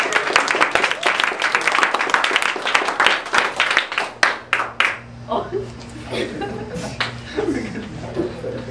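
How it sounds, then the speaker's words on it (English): Classroom applause for a student group presenting a drug project, dense clapping from a small crowd with scattered chuckles, thinning out after a few seconds as murmured talk and laughter take over. "Let's welcome GHB Rohypnol Group."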